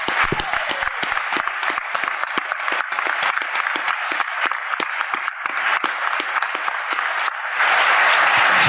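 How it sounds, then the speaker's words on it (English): Sustained audience applause at a DEF CON hacker conference panel, dense steady clapping from a crowd with sharp individual claps standing out, swelling louder near the end. "it's time for everyone to give this guy a big round of applause"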